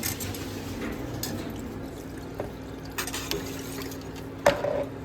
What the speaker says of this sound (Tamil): ரெண்டு கப்பு தண்ணியை எடுத்து இந்த சோஸ் பேனில் போடுறீங்க